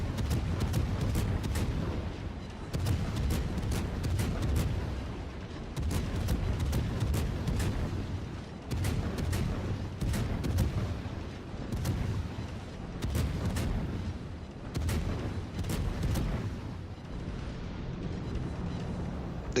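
HMS Minotaur, a cruiser in World of Warships, trades rapid main battery fire in a close-range fight near an island: continuous heavy booming salvos with a dense rolling rumble and repeated sharp blasts.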